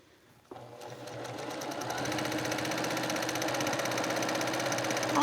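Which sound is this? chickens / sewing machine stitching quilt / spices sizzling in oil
sewing machine stitching quilt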